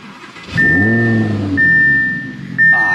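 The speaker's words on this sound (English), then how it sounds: "Ah, just a naturally aspirated V10 sound." A naturally aspirated V10 in a second-generation Audi R8 fires up on a warm start, then settles into a steady, close, full-bodied idle hum that runs alone with no talking.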